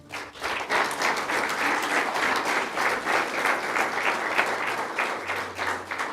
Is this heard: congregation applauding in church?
yes